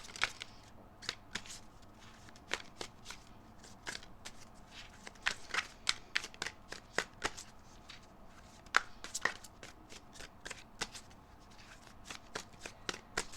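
Tarot cards shuffled and drawn in rapid, crisp flicks, a dense run of sharp riffling taps and snaps close to the mic at a soft overall level, with no talking.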